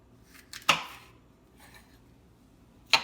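A knife slices through a bell pepper on a cutting board, two sharp crisp cuts about two seconds apart, near and clear, with a faint rustle between them and no talk.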